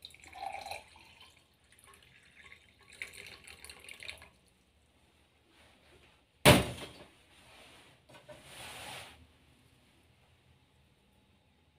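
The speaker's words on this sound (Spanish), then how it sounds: "Un vaso de agua." Water poured into a glass while making a honey and salt drink, a gurgling fill after a sharp knock of the glass being set down, with faint drips and small clinks earlier, quiet and close.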